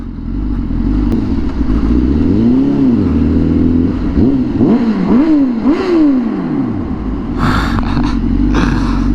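Honda Fireblade 1000RR-R SP superbike engine revving hard with the auto blipper, loud and close, with sharp rising and falling throttle sweeps and quick blips under a steady engine roar, plus some wind and clatter.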